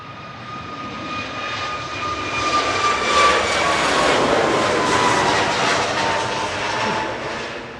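A Boeing 737 Max 8 on an empty positioning flight to East Midlands departs Manchester Airport, its jet roar swelling and then easing, with a thin high engine whine threaded through, alone and without talking.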